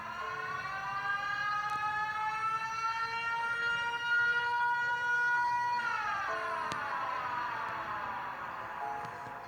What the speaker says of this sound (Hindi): तभी साइरन हेड जोरदार आवाज निकालकर